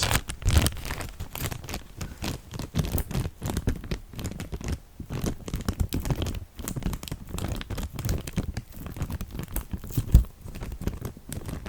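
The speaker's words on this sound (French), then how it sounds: "Est-ce que déjà tu entends ce bout de papier?" A small piece of paper crumpled close to the ear during a hearing test, a continuous soft crinkling and rustling with irregular bursts, no voices.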